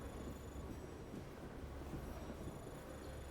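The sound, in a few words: train departing in Lost Odyssey video game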